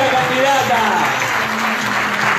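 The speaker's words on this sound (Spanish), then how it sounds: "Un poco más arriba los aplausos, por favor." Steady applause from an audience at a campaign launch event for a city council candidate in Posadas, a dense continuous clatter of clapping with a voice speaking briefly over it.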